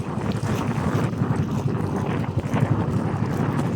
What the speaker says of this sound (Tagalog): Nalubong tayo sa hangin, no?